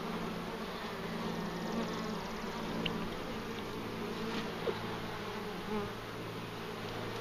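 Honey bees from a swarm hive being transferred into a proper hive setup give a dense, steady, close buzzing that holds evenly throughout, with no voices.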